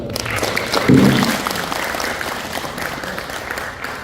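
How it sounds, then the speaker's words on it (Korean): Audience applause fills a hall at an eightieth-birthday celebration for elderly guests, steady moderate clapping that swells briefly near the start, with a crowd murmur beneath and no clear speech. "우리 김성만 도의원님께 다시 한번 큰 박수 부탁드리고요"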